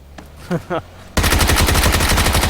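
Rapid automatic gunfire in PUBG: Battlegrounds bursts in loud and close after a quiet stretch with two short voice sounds, firing as a dense continuous volley to the end.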